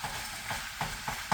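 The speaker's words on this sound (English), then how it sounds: "we just want to get this meat nice and brown" Ground meat browning in a pan for a tater tot casserole, with a soft steady sizzle broken by several scraping stirs of the spatula at irregular intervals.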